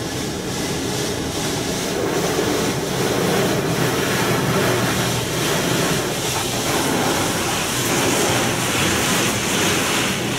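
Rinse water sprays inside a D&S 5000 automatic car wash, a steady, loud, close hiss and rush of water that holds even for the whole stretch.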